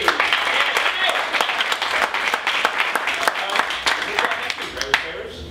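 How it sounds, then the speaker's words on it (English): A comedy-show audience at iO West gives a loud, dense round of applause for a performer named Dummy, steady clapping that fades out at the very end. "Another round of applause for Dummy."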